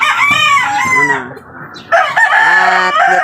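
A rooster crows loudly and close at a backyard chicken coop, two long wavering crows in a row with little else around.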